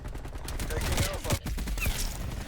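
Rapid gunfire from a C58 rifle in a first-person shooter, a dense burst of quick shots lasting a couple of seconds, with someone talking over it.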